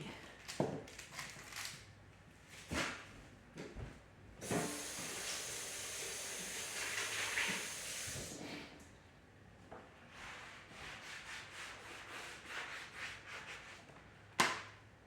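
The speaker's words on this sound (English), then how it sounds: "Now I'm going to rinse this off real quick, get the onion all off" Kitchen tap water runs while vegetables are rinsed, a steady hiss for a few seconds in the middle, with quieter clatter and handling sounds before and after.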